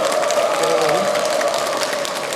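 Audience applause welcoming the Venerable Dongjin, a Buddhist monk, to a Dharma lecture stage: steady, dense clapping from a hall crowd, fairly loud and continuous, with a faint voice mixed underneath.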